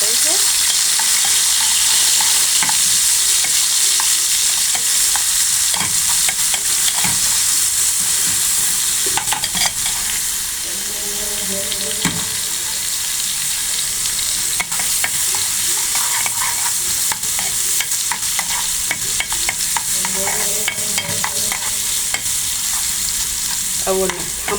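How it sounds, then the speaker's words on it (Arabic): Garlic sizzles steadily in hot oil for Egyptian lentil soup, a dense continuous frying hiss with occasional spatters and stirring scrapes, close and loud throughout with no talking. "هنحط طشة التومة كده زي ما انتوا شايفة."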